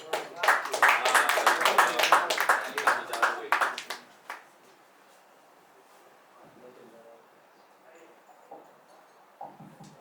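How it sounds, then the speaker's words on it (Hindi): An audience at a Hindi kavi sammelan poetry gathering claps to welcome a poet, a dense burst of applause lasting about four seconds before dropping away to a quiet room with faint scattered sounds. "एक बार जोरदार तालियों के साथ स्वागत करें"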